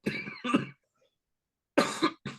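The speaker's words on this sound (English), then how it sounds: "told you I would cough" Two clusters of coughing separated by a silent pause, close and fairly loud, with a final short cough at the end.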